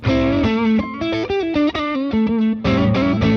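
An electric guitar through a Tube Screamer overdrive pedal plays a melodic riff with a crunchy overdriven tone, notes and chords ringing out loud and unaccompanied.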